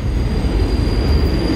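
A New York City subway B train rolls along with a steady, loud rumble of wheels on rail and a thin high whine inside the car, continuous and without talk.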